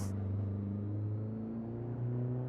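A drifting car engine in Assetto Corsa holds a low, steady drone with a slight rise in pitch, faint and continuous with no talking.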